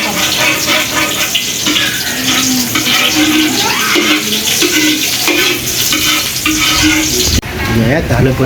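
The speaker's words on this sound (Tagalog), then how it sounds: "halo po natin yung ating adobo sa tuyong karing manok" Adobo with dry chicken curry is stirred in a sizzling pan, giving loud, close, continuous scraping and frying hiss that shifts abruptly near the end, with faint talk in the background.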